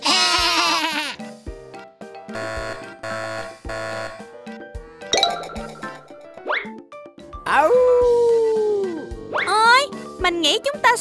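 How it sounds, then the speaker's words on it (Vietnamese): Wavering bleats from a sheep sound among bright game-like jingles and effects, with a voice chattering in between. "Đó là tiếng kêu của bạn cừu với bộ lông xù."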